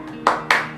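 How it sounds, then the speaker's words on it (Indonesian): Two sharp claps about a quarter second apart ring out near and clear in a classroom, the start of a first-grade children's tepuk semangat clap chant. "yuk kita tepuk semangat dulu."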